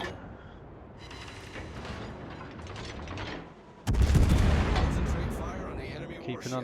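Des Moines cruiser in World of Warships firing an armor-piercing volley, a sudden heavy boom of several guns at once followed by a rumbling tail, with softer game noise before it.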